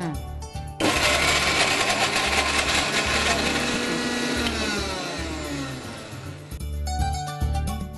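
A mixer grinds ripe red chillies with salt for a mango and ginger chutney, a loud steady whirring roar that starts abruptly, runs several seconds, then cuts off with a brief pause and short restart.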